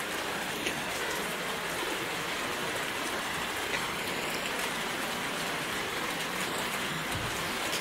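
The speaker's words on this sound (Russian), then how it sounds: "еще дождик таки капает" Steady light rain pattering and dripping on surfaces in a monkey enclosure, an even, continuous patter with no voices.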